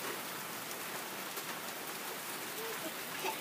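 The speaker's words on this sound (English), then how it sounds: "More rain?" Steady rain falls outdoors, a dense, even hiss of drops pattering on surfaces that holds constant throughout, moderately close, with no voices present.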